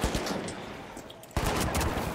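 Gunshots from the R.357 revolver in the shooter game The Finals: a dense run of sharp game-gun reports, a quieter pause, then a loud burst of close, repeated shots.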